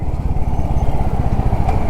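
A motorcycle engine running close by, a loud steady low throbbing rumble with even rapid pulses and no voices.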